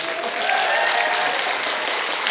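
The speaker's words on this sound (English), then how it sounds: "Can we give a round of applause to AJ running sound tonight?" An audience at a live music and conversation evening breaks into steady, dense applause, a full wash of clapping that holds level for the whole moment.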